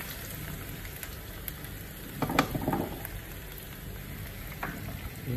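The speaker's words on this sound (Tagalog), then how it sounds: "Ngayon, naglagay tayo ng mantika rito sa bago. Lagyan na natin yung sibuyas at yung bawang." Chopped onion and garlic sizzle steadily in hot cooking oil, with a continuous crackling fry throughout and a brief louder burst of sputtering near the middle, no voices present.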